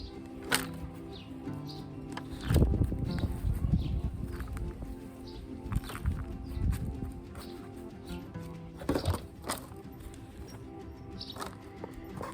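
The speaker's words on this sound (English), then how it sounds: "You can hear the sparrows chirping in the hedge." Sparrows chirp in short, scattered bursts from a hedge around the listener, amid light rustling and occasional soft thumps nearby.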